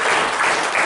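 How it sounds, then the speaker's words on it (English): Church congregation applauding during a Christmas program, a short dense burst of clapping filling the whole moment with no voices over it. "Let's give God an applause for that."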